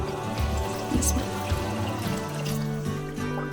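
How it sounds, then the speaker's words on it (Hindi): Water is poured into a yogurt curry (salan) cooking in a pan. A continuous splashing trickle runs for several seconds, close and fairly loud, with faint sizzling beneath and no speech. "अब इसके अंदर मैंने डालना है जी पानी।"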